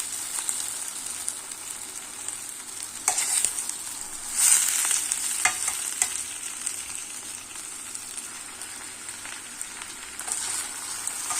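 Steady sizzling of potatoes frying in butter, a constant hiss with a few brief crackles and stirring scrapes, close and unbroken, with no voices.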